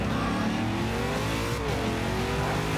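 A car in the Forza Horizon game accelerates hard, its engine note climbing steadily in pitch with a brief gear change midway, loud and close throughout.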